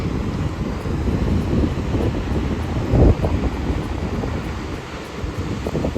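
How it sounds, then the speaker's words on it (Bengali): Water released from a dam near Finisterre in northern Spain makes a continuous broadband roar, mixed with gusty wind buffeting the microphone. "এখানে ড্যামে জল ছাড়ছে আর কি"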